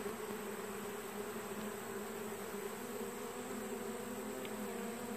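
Honeybees swarm around a large opened hive, a dense continuous buzzing drone that stays steady and close throughout, with no voices.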